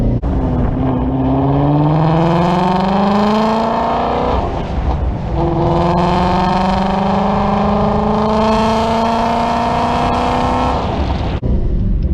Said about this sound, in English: Other than it being vastly louder than my car, he's got a full free-flowing exhaust system